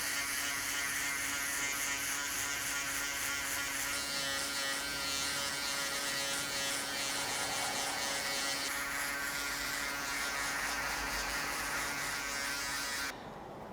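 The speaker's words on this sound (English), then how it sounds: "we're ready to put in the foiler" Electric foil shaver buzzing steadily at close range while cutting a low skin fade, a continuous high whine with slight pitch shifts as it moves over the head, running alone until it cuts off near the end.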